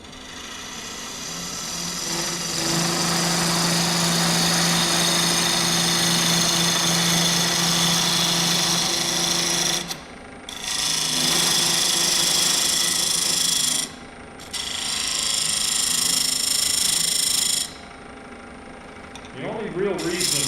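A wood lathe hollows a wooden honey pot lid, giving a loud, steady whirring grind with a low tonal hum. It pauses briefly twice, then the cut resumes and stops near the end.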